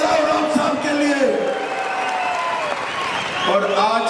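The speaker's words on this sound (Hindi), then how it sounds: "जोर से ताली बजाओ राव साहब के लिए" A crowd applauds at an outdoor political election campaign rally in Jalna, with steady, dense clapping that fills the whole stretch and swells again near the end while a voice carries over the top.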